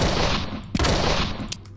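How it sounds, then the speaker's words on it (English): Pistol shots fired at a wall in a video game, a few sharp cracks over a dense, noisy game background. "shoot the wall down with your pistol if you want"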